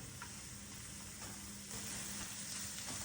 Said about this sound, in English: Now we're going to let that saute in our wok until our vegetables are softened and our onions are a little translucent.